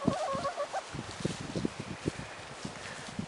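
Chickens kept with ducks on a winter farm cluck close by in soft irregular bursts, with a short raised call at the start and scattered scratching or pecking sounds between clucks.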